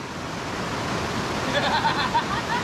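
Waterfall pouring into a clear river, a steady broadband rush of falling and flowing water close by, with faint splashing and a distant voice rising near the end.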